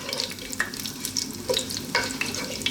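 Whole cumin seeds, cloves and green cardamom sizzle in hot oil while being stirred, a steady close frying hiss with scattered crackles and scraping taps.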